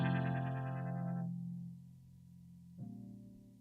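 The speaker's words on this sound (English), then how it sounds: "there's this tool called a high cut on the opposite side of the spectrum" A sustained, harmonically rich tone passes through an exaggerated high-cut filter: bright at first, it turns dark and muffled after about a second, then a new muffled note enters near the end.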